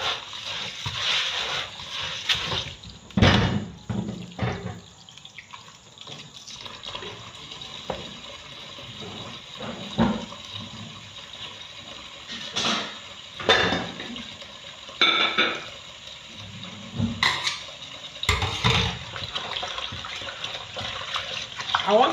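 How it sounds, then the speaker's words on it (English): Rice being rinsed in a pot of water to wash off starch, with repeated splashing, swishing and sharp clinks of grains and pot against the container in irregular bursts, close by with no talk. "I want to wash it and remove the starch."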